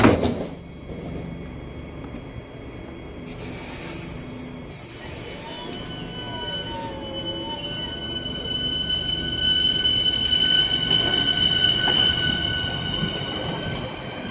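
A train departs Lewisham station, its motors whining as it pulls away while the wheels squeal in long, high, sustained tones, steady and fairly close.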